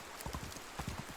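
Horse hooves clip-clopping in the medieval survival game Medieval Dynasty, a short run of soft, close thuds in an uneven rhythm with no voices over them.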